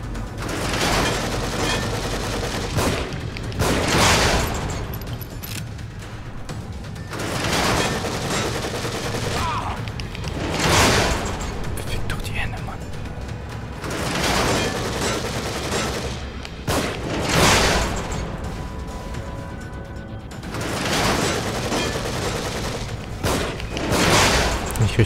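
Repeated bursts of gunfire from the PS4 game The Evil Within, loud and close, with volleys and single shots recurring every few seconds over a steady rumbling background.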